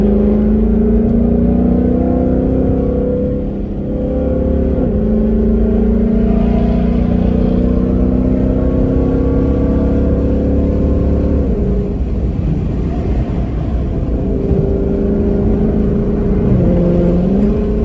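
A Ford S550 Mustang accelerates hard onto a freeway, its engine note rising and sweeping through several gear changes with a steady, loud drone and a brief shift dip near the middle, heard from inside the car.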